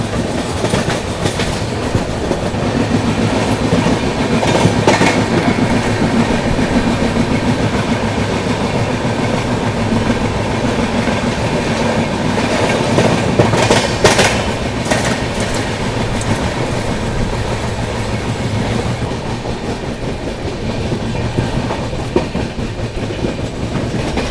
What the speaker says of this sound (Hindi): बाकी थोड़ी देर में अपनी ट्रेन पहुंचेगी बरौनी जंक्शन पे।